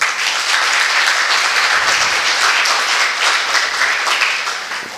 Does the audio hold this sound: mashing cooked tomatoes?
no